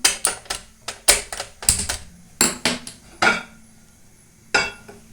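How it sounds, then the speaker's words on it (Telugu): A pan being set on a stove, heard as a run of sharp metallic clanks and clatters, close and fairly loud, in uneven bursts with short gaps. "స్టవ్ ఆన్ చేసి ప్యాన్ పెట్టుకుందాం"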